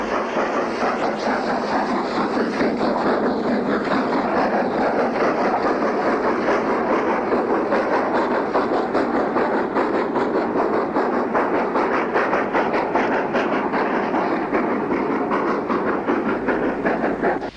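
1960s steam locomotive trains pass at Worcester, including a Jubilee class engine, with a loud, continuous rumble and a dense, rhythmic clatter of wheels on rails throughout.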